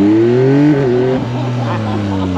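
Yamaha MT-09 Y-AMT motorcycle revving high in sport mode: a loud, close engine drone rising and dipping in pitch with a quick shift, and a voice talking over it.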